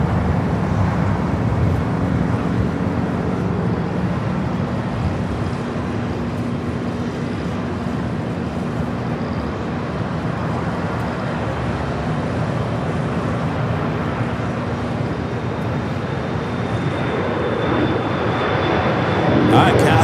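Steady, loud jet roar of a Cathay Pacific airliner taking off at LAX, a broad rumbling wash with a sustained tone that builds toward the end, heard from a distance with outdoor background noise.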